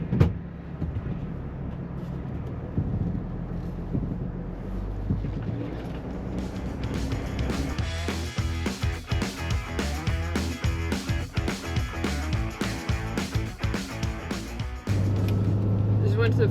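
A car driving along a road toward a camp spot, with a steady engine and road rumble and wind noise throughout. Someone talks over it, and the engine note becomes more uneven and choppy toward the end.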